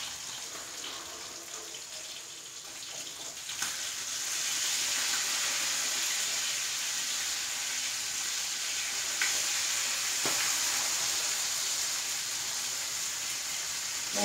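Kilimeen fish frying in a pan with curry leaves, a steady close hiss of hot oil sizzling that swells louder after a few seconds and continues evenly with faint crackles.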